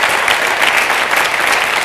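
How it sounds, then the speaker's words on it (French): A studio audience at a French television music show claps in a dense, loud, continuous burst of applause from many hands. "vous pouvez l'applaudir à l'avance"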